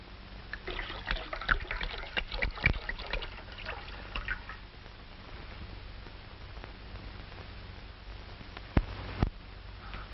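Grape juice being poured into a bowl, a soft liquid trickle and splash early on followed by quieter stretches and a couple of faint knocks, muffled on an old recording.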